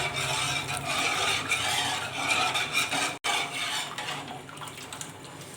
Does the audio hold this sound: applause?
no